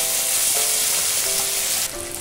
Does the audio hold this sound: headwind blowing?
no